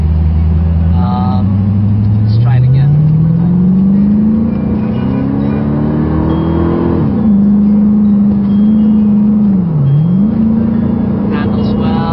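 A Corvette sports car's engine revs and accelerates, its pitch climbing steadily, easing off, dipping, then holding a strong steady drone from the driver's seat, with someone speaking briefly over it.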